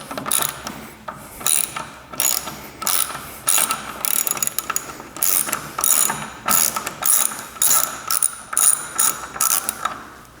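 A hand ratchet backing out bolts on the motor knuckle of a boat during a Power-Pole Drift Paddle install, rapid clicking bursts in a steady repeating rhythm of short strokes, close and loud.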